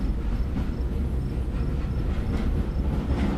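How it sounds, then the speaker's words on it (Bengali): A loud, continuous low rumble of a train rushing past on the tracks, close and steady with no talking. "দ্রুত গতিতে ছুটে আসে একটি ট্রেন"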